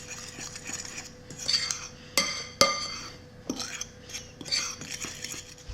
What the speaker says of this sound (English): whisk it together. I say whisk it, but fork.